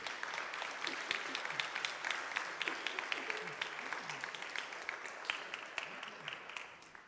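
A church congregation claps together in sustained applause during a Sunday worship service, dense overlapping hand claps filling the room at steady loudness, with a few voices murmuring underneath.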